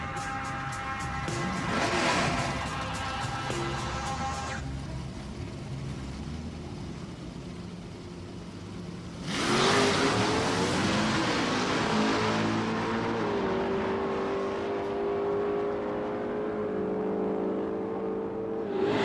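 A Camaro and a Z car on nitrous roar through a street drag race, engines revving loud and close, a sharp surge midway, then a long fading rush of engine noise as they pull away.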